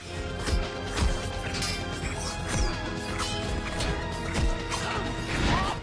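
Repeated sharp cracking snaps of celery being broken on a Foley set to imitate bone breaks, loud and close, several in a row with a scrunchy, wet crunch between them.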